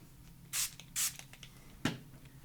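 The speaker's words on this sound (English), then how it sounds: "I'm going to take my water spray, spray it with water, spray my card a bit" A water spray bottle mists a handmade paper card in two quick, close spritzes about half a second apart, followed by a single sharp click in a quiet room.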